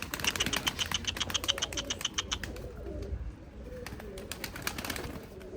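Tumbler pigeons coo and rustle at close range in a loft, soft repeated cooing with fluttering and scratchy clicks of feet and wings, alongside a faint high chirping.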